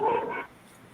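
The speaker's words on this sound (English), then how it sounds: "The dog is barking." A dog gives a single short bark or yip nearby, loud for under half a second before the room falls quiet.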